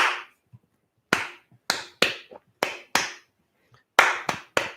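Sharp hand claps, about nine in all, tap out an uneven strumming rhythm with short gaps and a few quick pairs, close and clear against silence.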